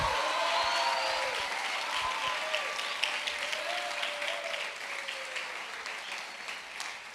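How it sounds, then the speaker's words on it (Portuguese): A church congregation applauds steadily, with cheering voices rising over the clapping throughout, dense and sustained at a moderate distance. "Dê um aplauso, um grito de vitória."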